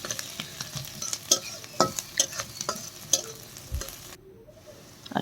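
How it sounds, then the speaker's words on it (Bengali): Chopped onions frying over garlic in a pan, sizzling steadily while a spatula scrapes and stirs in repeated strokes, then the sound drops away near the end. "পেঁয়াজ কুচিটা আমি হালকা ব্রাউন কালার করব, অনেক বেশি ভাজবো না"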